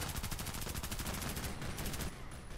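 An M4A1 in the shooter game Contract Wars fires in a rapid automatic burst, evenly spaced loud shots for about two seconds, then a brief tail of quieter rattle, no voices over it.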